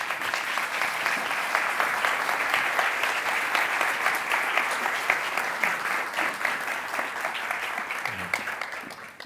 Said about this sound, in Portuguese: Vamos recebê-los com muitas palmas